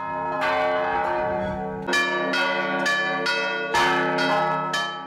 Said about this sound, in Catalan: les campanes de l'església són les protagonistes de la festa